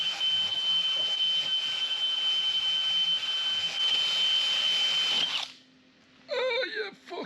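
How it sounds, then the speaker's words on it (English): A wire wheel on a power tool scrubs built-up rust off a vehicle axle behind the bushing lip, a steady, loud, high whirring grind that cuts out abruptly near the end, followed by someone talking. "Now get my wire wheel."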